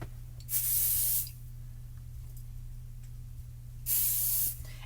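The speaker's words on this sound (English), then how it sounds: "I am going to spray the back of mine with a little bit of pixie spray" Two short bursts of adhesive spray hiss from an aerosol can, each about a second long, separated by quiet with a low hum underneath.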